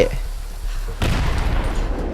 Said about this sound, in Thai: มีระเบิดก็ต้องใช้ระเบิดอะจังหวะเนี้ย